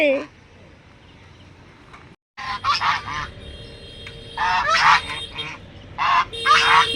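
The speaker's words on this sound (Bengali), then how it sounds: "এদিকটা দেখা যায় বড় বড় রাজহাঁস" Large domestic geese honking loudly in repeated harsh bursts near a roadside village home, several birds calling together, with steady outdoor background noise.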